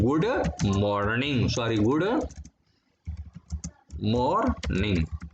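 Keys clatter on a computer keyboard as a file's contents are entered in a Windows command prompt; light, quick clicks sit under a person talking and come through more clearly in a short pause.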